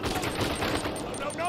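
Rapid gunfire rattles nonstop in a firefight in Uncharted 4, dense bursts of shots stacked close and loud with no pause across the whole moment.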